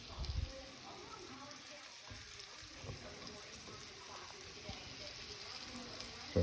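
Flour-dredged pheasant pieces sizzling in a hot pan: a faint, steady hiss of frying, with a soft knock at the start and another at the very end.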